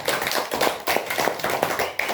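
A classroom group claps hands during a micro-teaching session, a dense burst of close, sharp claps with uneven rhythm and no talk over it.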